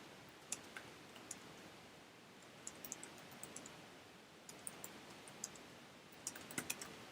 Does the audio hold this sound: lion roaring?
no